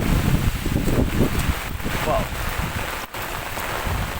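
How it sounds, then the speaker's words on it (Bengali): Heavy rain falling on a Friday evening in Malaysia, a dense, continuous hiss and patter with gusty rumbles, loud and steady throughout. "খুব বৃষ্টি হচ্ছে মালয়েশিয়াতে আজ প্রচুর পরিমাণ বৃষ্টি"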